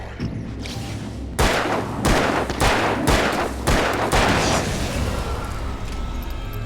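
Gunfire in the Alan Wake video game: a rapid series of about six loud, sharp gunshots in close succession, each with a booming tail, over a low droning game background, with no talking.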